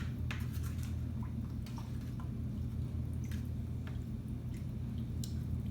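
A potter's throwing sponge wipes clay off wheel tools, giving soft wet squishes and light drips, close and quiet over a low steady background hum.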